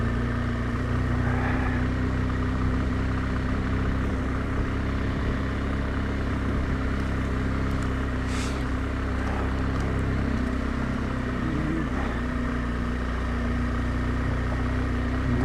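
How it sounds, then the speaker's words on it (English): A KTM 690 motorcycle on intermediate tyres rides a rough track between Kettlewell and Thoralby, its engine a steady, close drone that holds throughout with little change in pitch. "I think Clifford's on his intermediate tyres on his KTM 690."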